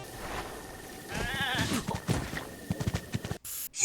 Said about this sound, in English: Wildlife like bears, wolves, and even goats.